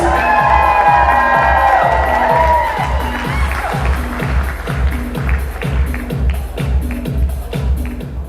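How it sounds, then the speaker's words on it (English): Wedding reception guests cheer and shout in a loud crowd, with a steady pulsing beat of music underneath and scattered claps throughout. "A nice round of applause, folks. Make some noise."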